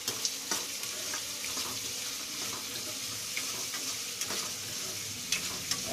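Okra (bhindi) fries and gets stirred in a pan for a dhaba-style masala curry, a steady sizzle broken by several sharp scraping clicks of the spatula, close and unvoiced.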